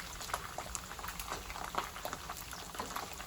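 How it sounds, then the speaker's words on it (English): Meat frying in a pan of grease for carne con chile, a steady close crackle and sizzle with dense popping spatter throughout and no talk. "So we actually fry these because you see all that grease?"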